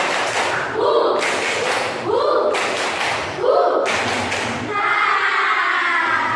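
A classroom of students claps a counted pattern in bursts of two, three and then four claps, dense and close, with a teacher's voice counting along between them.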